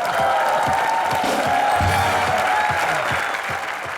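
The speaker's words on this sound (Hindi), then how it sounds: "जोरदार तालियां इनके लिए" Studio audience applauding loudly on a Hindi comedy talk show, a dense, steady wash of clapping with cheers and whoops, sustained throughout.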